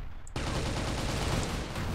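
Rapid gunfire in the CrossFire ES game, aimed at vehicles, bursts in abruptly after a brief lull and hammers on continuously, loud and close, with no talk.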